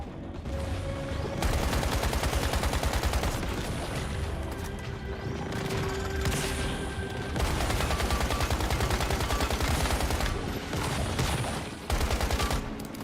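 A dense barrage of loud blasts and crashing bursts from a double explosion during a boss fight in the video game Once Human, pounding continuously with brief lulls and no talk.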